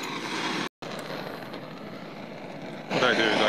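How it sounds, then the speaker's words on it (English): A Servet propane torch roars steadily up close while heating a live steam model locomotive joint for silver soldering, a broad continuous hiss with a brief cutout and a louder, harsher stretch near the end. "So I'm using a Servet propane torch here."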